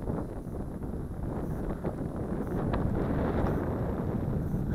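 Steady, loud wind buffeting around a small aerial camera drone flying high in a breeze, a continuous rushing roar with no speech.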